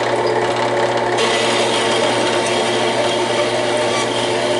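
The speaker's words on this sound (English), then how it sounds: "I'm trimming up some pieces on the bandsaw here for the jaws." A bandsaw trims metal pieces with mill scale to make jaws for a lathe milling attachment, giving a close, continuous whirring cut at a steady level.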